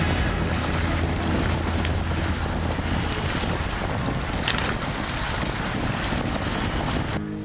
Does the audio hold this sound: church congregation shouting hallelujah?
no